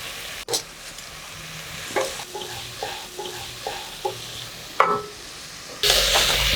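Brinjal pieces being sautéed in a pan for Kathrikai Sadham (brinjal rice), giving a close, low sizzle broken by repeated stirring scrapes and taps, and a brief louder hiss near the end.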